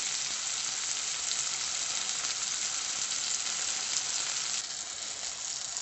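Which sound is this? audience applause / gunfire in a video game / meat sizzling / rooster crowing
meat sizzling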